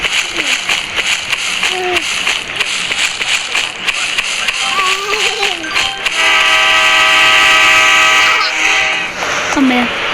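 A train near a railway station in a racing video game rumbles and clatters past, with a sustained train horn blaring midway, while voices talk over the game sounds.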